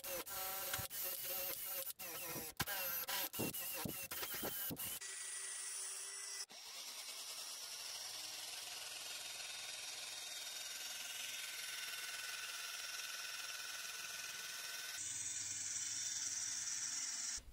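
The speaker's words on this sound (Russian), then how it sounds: "Сейчас пройдемся корщ-щеткой." Wire brush scrubbing metal on a workshop tool, a continuous whirring, rasping grind for most of the stretch, starting after a run of sharp clicks and knocks. It is fairly quiet and has no speech.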